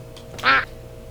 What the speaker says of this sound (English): I like ducks.